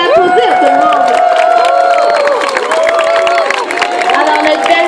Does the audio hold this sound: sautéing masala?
no